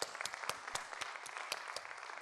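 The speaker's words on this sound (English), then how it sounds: "Round of applause for him." A small audience claps after a keynote talk at an IEEE conference session, giving a few seconds of sparse, quiet claps with individual hand strikes standing out.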